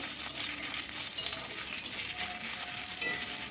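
Ginger, cumin and garlic paste sizzling in a pan with browned onions and chopped green chillies, a steady close crackle with occasional stirring scrapes and no talking.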